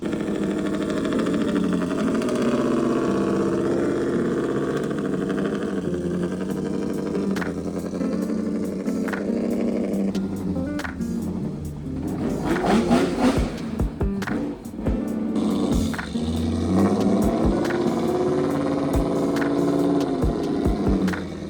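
A VW Golf MK2 engine runs steadily for the whole stretch on a test drive, a continuous mid-pitched drone with scattered knocks and rattles in the middle, and no talking.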